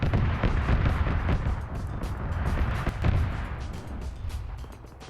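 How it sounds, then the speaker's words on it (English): Autocannon fire in a large multiplayer military shooter game, a series of heavy booming bursts and thumps at irregular intervals, fairly loud with rumbling tails, with no talk. "I heard an autocannon going"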